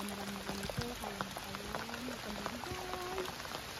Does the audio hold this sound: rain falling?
yes